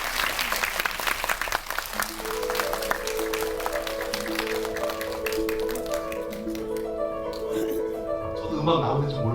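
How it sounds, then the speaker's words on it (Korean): An audience applauds to welcome an animation film director at a master class, continuous clapping from a crowd that carries on under music starting up with sustained tones. "큰 박수로 맞이해 주십시오."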